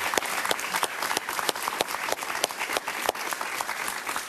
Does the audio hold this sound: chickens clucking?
no